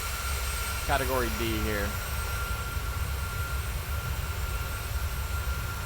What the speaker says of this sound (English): A good little replay here on the PMDG 737 800 series.